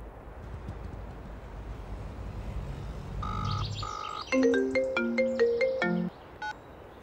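An incoming call sets off a phone ringtone, a bright electronic melody of repeated tonal notes that starts after a few seconds of quiet background noise and plays loud and close for a few seconds before stopping.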